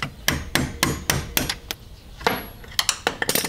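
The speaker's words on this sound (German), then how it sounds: "Da brauchen wir einen Hammer und irgendwas, was ein bisschen dünner ist, dass es da durchpasst." Sharp metal-on-metal hammer blows drive a cotter pin out of a Polaris Sportsman/Scrambler front differential, about a dozen close, loud strikes in uneven bursts with brief pauses, no talking.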